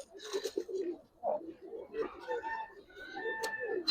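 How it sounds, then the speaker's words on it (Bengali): A pair of Giribaz pigeons coos in soft, throaty rolling calls, several phrases close by, with a voice mixed in around them. "আগের পেয়ারটা ডাকলো না, এই পেয়ারটা একটু ডাকতেছে"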